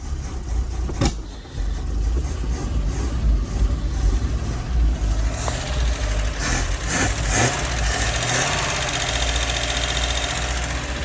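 A long-dormant V8 Toyota Hilux engine runs steadily after being jump started, giving a continuous close, rough idle with a low rumble and a few sharper knocks and clatters on top. No one speaks.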